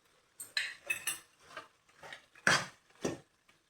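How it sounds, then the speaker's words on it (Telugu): Ginger-garlic paste frying with country chicken, heard as a run of close, distinct metal spoon scrapes and clinks against the pan, irregular and fairly quiet, with little audible sizzle. "ఇప్పుడు 2 స్పూన్లు అల్లం వెల్లుల్లి పేస్ట్ వేసుకొని ఇది కూడా పచ్చివాసన పోయే వరకు వేయించుకుందాం"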